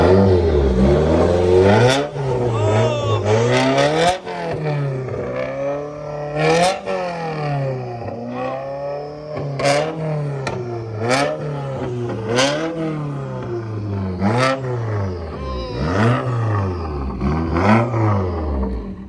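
A Subaru STI with a straight-pipe exhaust revving repeatedly, loud and close, each rev rising sharply then falling back to a rumbling idle in an uneven rhythm.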